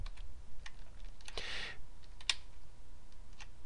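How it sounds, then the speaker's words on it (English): Keys tapped on a computer keyboard during Excel work, a few scattered light clicks with one louder, longer press in the middle, quiet and close. "So I'm going to click right here and hit F2."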